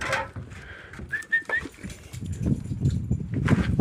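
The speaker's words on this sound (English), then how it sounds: "the birds are laughing at me" Birds calling on a beach, a few short whistled cries heard faintly over wind and ambient noise near the shore.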